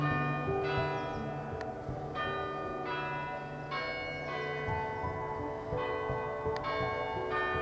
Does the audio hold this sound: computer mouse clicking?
no